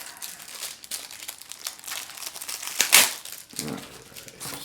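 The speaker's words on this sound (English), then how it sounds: "So let's get a knife here. Try to cut this thing open." A knife cuts open the packaging of a small EDC pouch wallet. Close crinkling and tearing of plastic runs steadily, with one sharp louder rip near the middle and no talk.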